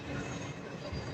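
A train rumbles past with a low, steady roll of wheels on rails, fairly faint and heard only briefly.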